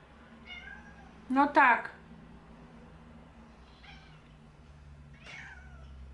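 A house cat gives a loud, drawn-out meow up close, followed by a few softer meows, while people talk quietly in a kitchen.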